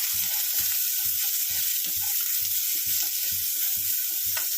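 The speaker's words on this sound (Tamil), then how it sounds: "வெங்காயம் 1 சின்னதாக வெங்காயம், இதை நல்லா வதக்கிக்கலாம்." Onion, green chili and curry leaves sizzle steadily in a hot pan while being sautéed for vegetable upma, with a spatula scraping and stirring in a regular rhythm about twice a second, close and alone.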